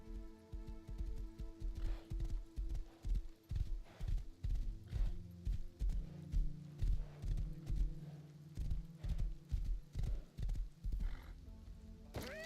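Horse in the survival video game Rust, a steady run of hoof clip-clops on hard ground with a whinny near the end, fairly faint with no talking.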